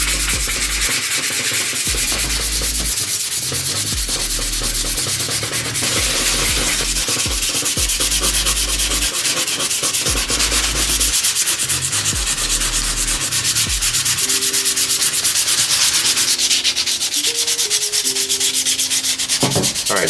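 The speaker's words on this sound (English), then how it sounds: "now I'm gonna go ahead and do the final sanding stage with the 220 grit" A bare metal BMW E90/E92 3-Series roof trim piece being hand-sanded with 220 grit sandpaper: loud, continuous abrasive rubbing in steady back-and-forth strokes, close up and without talk.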